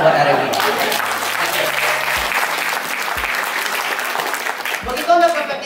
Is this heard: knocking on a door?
no